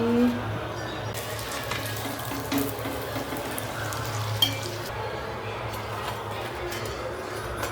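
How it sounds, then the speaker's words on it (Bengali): Luchi breads frying in hot oil, a soft steady sizzle and bubbling heard up close at low level, with faint kitchen clatter and no clear speech. "লুচিগুলো ভেজে নিচ্ছি"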